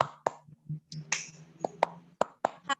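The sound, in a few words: hands clapping once in a group clapping game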